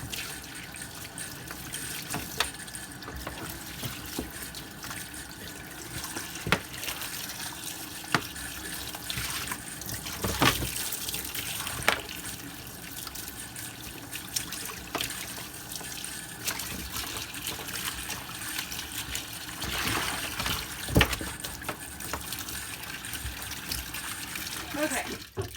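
Steady, faint trickle of running tap water rinsing suds out of a Coach handbag in a sink, continuing for the whole stretch with a voice faintly present at times.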